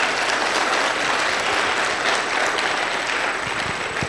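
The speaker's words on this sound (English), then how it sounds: "So let's give Nedbank a round of applause" A crowd at a township business workshop in Orange Farm applauds Nedbank, producing loud, dense, unbroken clapping that holds steady from start to finish with no talk on top.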